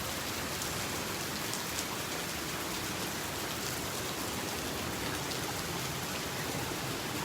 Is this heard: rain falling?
yes